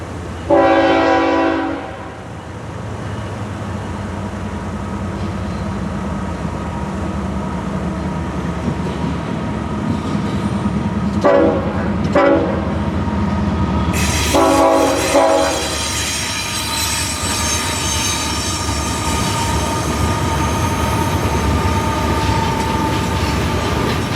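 An FEC freight train passes through the Miami area near Medley and Little River, its horn sounding in short blasts over a steady rumble of wheels and cars, loud and close, no talk.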